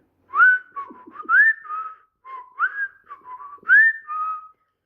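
A person whistles a lilting tune alone while feeding dogs and cleaning a kennel, in several short bright phrases with brief pauses between them, clear and close.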